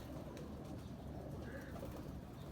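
Soft, low pigeon cooing rises from a steady rumbling background, quiet and somewhat distant.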